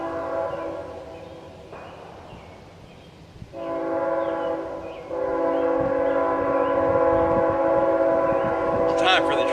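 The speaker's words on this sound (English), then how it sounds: "It's time for the train to come" A train rumbles past with a steady horn blast, the drone swelling louder partway through and holding strong to the end.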